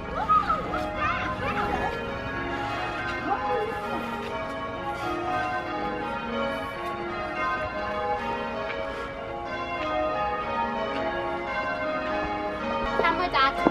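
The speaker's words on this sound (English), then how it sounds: "Those bells are still ringing." Bells ring continuously with layered sustained tones and repeated strikes, while people talk intermittently over them nearby.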